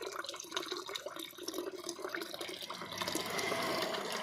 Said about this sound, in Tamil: பைப் அடிக்க தண்ணி பிடிக்கலான்னு வந்தேன்.